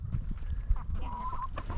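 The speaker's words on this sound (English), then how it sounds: "There's Ransom's little hen Lily" Hens and roosters in a backyard flock cluck and call close by, with short bursts and a few drawn-out tonal notes repeating over about two seconds and no talk.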